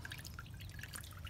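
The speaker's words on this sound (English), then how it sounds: "I'm just going to let this drip for a minute." Antifreeze coolant drips from an open radiator drain plug, a quick run of small, soft splashes close by, steady and fairly faint, with no voices over it.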